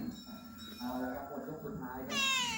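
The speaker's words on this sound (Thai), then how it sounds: "แมวบ้านผมครับ" A house cat meows in a short rising and falling cry at the end, following a stretch of someone talking close by and kitchen background noise.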